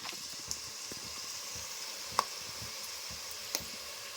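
Onions frying in a pan for boti curry, stirred with turmeric, making a soft steady sizzle with a few sharp clinks of a utensil against the pan, close and quiet with no voices.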